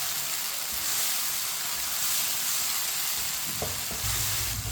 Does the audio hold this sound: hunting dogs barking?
no